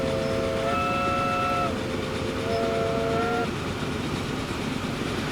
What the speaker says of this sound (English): We can sound the horn.